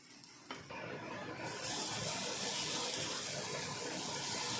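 A broccoli omelette sizzles steadily in a frying pan, a close, dense crackle that swells louder after a second and holds on without talk.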